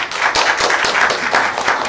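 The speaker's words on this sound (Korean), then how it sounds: "오늘 나와주신 감독님께 큰 박수 부탁드립니다." Audience applause at a film festival screening Q&A for the director, dense overlapping claps from a crowd, sustained and fairly loud throughout with no talking.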